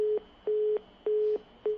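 A telephone busy tone sounds after a call disconnects: evenly spaced beeps, four in a row, each lasting about a third of a second with equal gaps between them, clear and steady with no voices.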